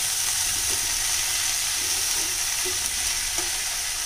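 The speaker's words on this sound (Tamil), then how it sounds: "கொத்தமல்லி இலை சேர்த்ததுக்கப்புறம் அடுப்பை நல்லா சிம்மில் போட்டுட்டு இந்த மாதிரி ஜஸ்ட் ஒரு பெரட்டி விட்டுருங்க" Coriander leaves are stirred into a tomato mixture in a pan on a stove at low heat, giving a steady loud sizzle with faint scraping of the spoon throughout.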